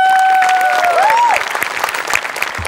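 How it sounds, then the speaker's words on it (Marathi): An audience claps together for a performing team after a skit, a dense burst of applause that thins toward the end, with a whistle-like tone sliding over the start. "आपल्या टीमसाठी एकदा टाळ्या वाजल्या"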